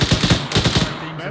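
Rapid bursts of automatic gunfire from a Grenada combat video game, loud and close, several quick strings of shots in a row, then trailing off into a quieter tail.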